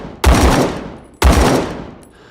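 Two loud semi-automatic gunshots from a rifle on a practice range in the video game Rising Storm 2, single taps spaced about a second apart, each with a sharp crack and a long decaying echo tail.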